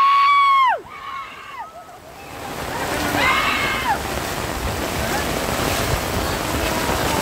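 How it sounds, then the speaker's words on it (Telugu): Heavy rain and flood water slosh across a university campus, a loud continuous rushing wash that starts after a few seconds, with a brief whistling sound at the start. "ఇదేం వానరా ఇది."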